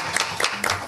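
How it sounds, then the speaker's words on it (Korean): Scattered clapping from a seminar audience at a Korean science policy panel discussion, moderate in level with a few sharper hand claps standing out over a brief stretch. "박수 한번 해주십시오"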